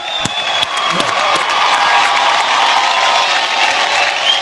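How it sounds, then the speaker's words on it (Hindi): An awards show audience claps loudly and continuously throughout, a dense, steady wall of applause with scattered cheers rising from the crowd. "तो आज की शाम की शुरुआत करते हैं आपकी जोरदार तालियों के साथ।"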